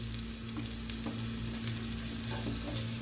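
Chopped onion sizzles steadily in a spoonful of melted butter in a pan, a close, continuous frying hiss over a low hum.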